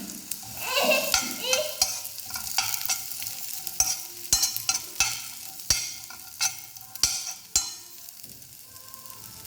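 Raisins frying in a pan for homemade dry fruit laddu, a steady sizzle broken by repeated sharp scraping strokes of a stirring spoon against the pan.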